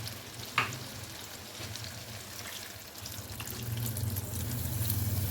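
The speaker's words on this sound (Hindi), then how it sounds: "तो यहाँ देखिए मैंने 2 गिलास अंदाजे से इसमें डाला पानी" Water is poured into a pot of simmering aloo gosht, a soft sizzle and bubbling giving way to a growing, steady watery rush near the end, with no talking.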